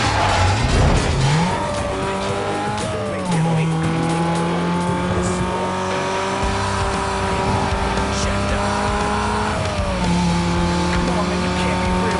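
A car in the racing game Need for Speed: Most Wanted brakes hard, engine whining through shifting pitch with squealing tires over a loud continuous drone, while someone talks over it.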